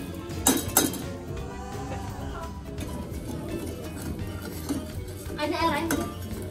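A spoon clinks and scrapes against a cooking pot while sugar solution is stirred, with a few sharp metallic knocks at the start and scattered clinks throughout over a low background.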